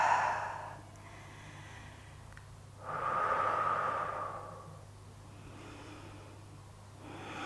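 A long, audible exhale during a prenatal yoga stretch, one steady breath of a second or two between quieter breathing, close and soft over a low steady hum.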